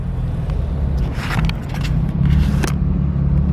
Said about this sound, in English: Look at that, 570S McLaren.